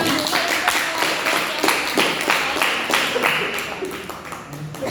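Audience at a high school presentation session claps for a student group after their talk, rapid, close clapping continuing throughout the clip with individual claps distinct, mixed with faint room noise.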